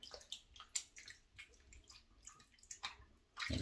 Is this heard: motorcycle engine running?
no